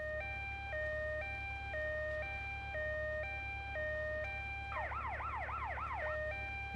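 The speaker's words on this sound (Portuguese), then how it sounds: "Quando você clica uma vez, liga a sirene." Ambulance siren in GTA Vice City Stories on PlayStation 2, a loud steady two-tone hi-lo wail that switches briefly to a rapid rising-and-falling yelp before returning, over a constant low engine hum.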